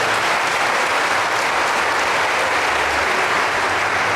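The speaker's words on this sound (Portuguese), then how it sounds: "Vamos aplaudir a Jesus?" A church congregation clapping loudly and continuously, a dense, steady wall of applause with no voices on top.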